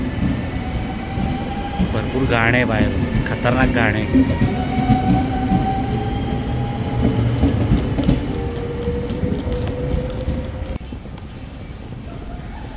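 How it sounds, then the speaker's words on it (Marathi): A train departing a station in the Netherlands rumbles steadily nearby with low mechanical noise, a voice talking over it briefly, the rumble easing off toward the end. "ही माझी ट्रेन चालली आता."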